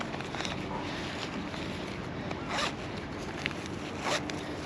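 Zipper on the back pocket of a Salomon ADV running belt, a soft rasping pull up close over steady wind noise, with a couple of brief louder zips.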